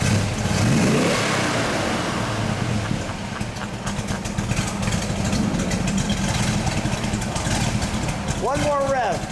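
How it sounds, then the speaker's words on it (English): A 1970 Ford Boss Mustang with a 429 V8 running a little rich rumbles loudly close by, idling and revving with a steady heavy drone, while people talk over it. "Let's give it one rev there."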